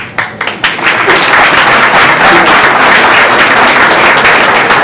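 A conference audience at the Canapa Mundi cannabis event applauds. A few separate claps open into a full, sustained wash of crowd clapping that stays loud and even throughout.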